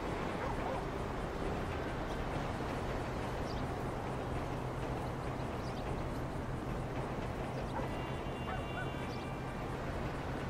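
A loose dog without a leash or tags barks and whimpers outdoors, faint and somewhat distant, with short yips scattered over a steady background hum and no clear speech.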